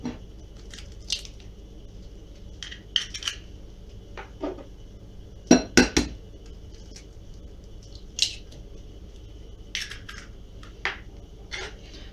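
Scattered sharp clicks and taps of eggs cracking and dropping into a bowl for kefir banana pancake batter, with a few clustered knocks against a low steady background hum.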